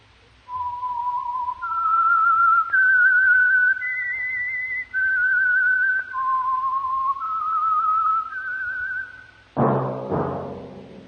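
A clear melodic whistle, the theme of the radio show The Whistler, plays a short tune of sustained notes stepping up and down, ending with a brief burst of orchestral music.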